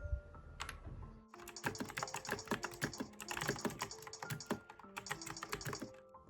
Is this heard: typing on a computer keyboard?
yes